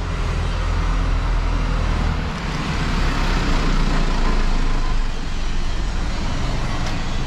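A car passes on a street in Osaka, a loud, steady roadway rumble and engine drone swelling and easing slightly, with no talking.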